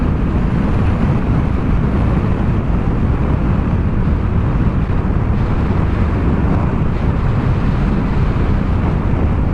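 Wind roar and engine noise from a Vespa GTS scooter with a 500 engine ridden at high speed on open road, a constant loud broadband rush with no letup and no talking.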